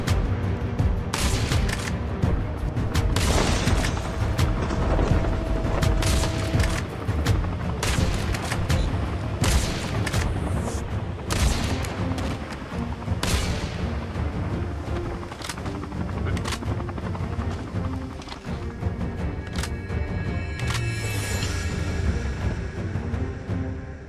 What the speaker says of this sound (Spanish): Con ese disparo apuesto que se asustó y no se atreverá a acercarse.